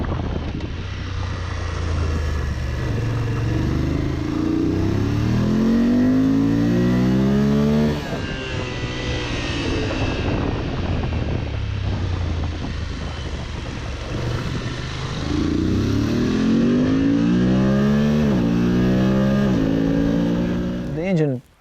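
A motorcycle engine revs hard and climbs through gears in rising sweeps, loud and close, with a brief easing before accelerating again.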